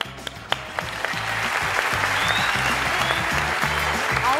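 Studio audience applauding on a Turkish televised singing competition, a steady wash of clapping that swells after a few scattered opening claps, with low musical tones pulsing underneath throughout.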